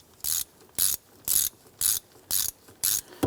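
Ratchet wrench with a 15mm socket snugging a lock nut on the shift boot bezel of a 1997-2006 Jeep Wrangler, six quick crisp bursts of pawl clicking in a steady rhythm, close and alone.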